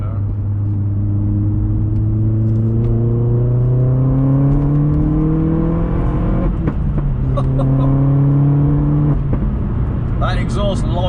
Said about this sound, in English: That exhaust likes to bang.